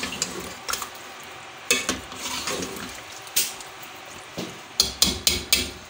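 Masala frying in a pot for Lahori chicken chana, a soft sizzle under repeated metal spoon scrapes and knocks against the pan, irregular at first then a quick run of strokes near the end, close up.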